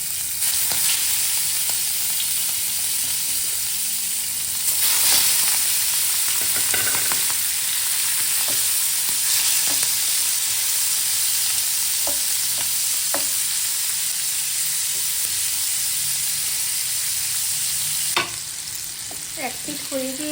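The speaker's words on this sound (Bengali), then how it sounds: "ফ্রাই প্যানে তেল গরম করে নিয়েছি। এখন চিংড়ি মাছগুলো এর মধ্যে ফ্রাই করে নেব।" Prawns sizzling in hot oil in a frying pan, a steady loud crackling hiss throughout with occasional sharp pops and utensil clicks, no voices.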